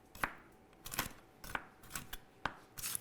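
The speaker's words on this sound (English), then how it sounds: "We want to get a coarse chop or halve the hazelnuts." Hazelnuts being coarsely chopped with a knife on a board: sharp, separate cracking chops spaced about half a second apart, close and fairly quiet, with no talk.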